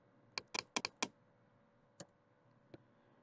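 Several quick keystrokes on a computer keyboard, a tight burst of four or five clicks followed by two isolated taps, close and fairly quiet over a low steady hum.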